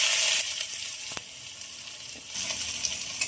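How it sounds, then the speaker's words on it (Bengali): Chopped onion fries in oil in a wok, with a loud hiss at first that settles into a steady sizzle, broken by a few scraping stirs and a hard clink, and no voice. "দিয়ে দেবো কুচনো পেঁয়াজ।"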